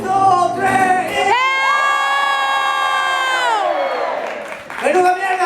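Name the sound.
audience shouting loudly on a count of three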